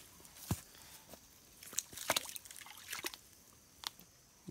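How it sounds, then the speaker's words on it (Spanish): A donkey drinks water outdoors in a mountain setting, producing soft irregular slurps, splashes and drips close by, with quiet pauses between the wet sounds. "Y así toman agua los burritos."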